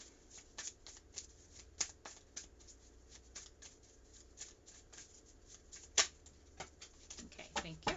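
Tarot cards are shuffled by hand at close range, a quiet run of soft riffling flicks and taps with a few sharper slaps near the end, with faint voice in the background.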